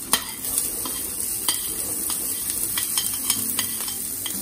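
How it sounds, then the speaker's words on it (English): Ginger and onion sautéing in a little oil in a pan, a steady close sizzle broken by repeated light scrapes and taps of a utensil stirring. "For us to saute the ginger and onion."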